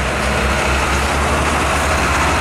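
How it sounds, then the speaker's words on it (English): A Mitsubishi Fuso Fighter dump truck's heavy diesel engine rumbles loud and close, a dense, steady low drone without pauses or voices. "dump truck Puso Fighter"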